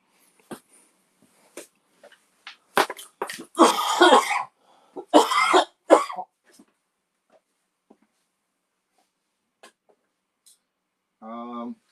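A person coughing repeatedly near a live-stream microphone, a cluster of harsh coughs and throat clearing in the middle followed by quiet stretches with faint clicks and a short voiced sound at the end.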